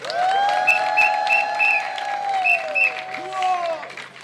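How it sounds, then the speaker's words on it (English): A crowd applauds at a domestic violence awareness month kickoff event, the clapping steady and fairly close, with voices cheering and calling out over it throughout. "Let's give everybody a big round of applause."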